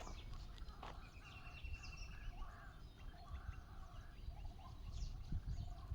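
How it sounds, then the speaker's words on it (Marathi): A kuva kombdi bird calls repeatedly in the rain, with short clucking, gobbling notes rising over a steady patter of rainfall and low background rumble, no speech heard. "तुम्हाला कुवा कोंबडीचा आवाज येतो का पावसात ओरडणारी कुवा कोंबडी"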